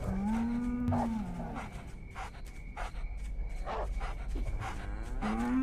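Cows in a cow-tipping video game moo in long, drawn-out calls, one opening the stretch and another closing it, with scattered game sounds and a low steady hum in between.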